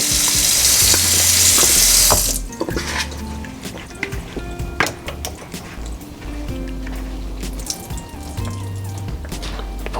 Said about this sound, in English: Pouring off any excess water.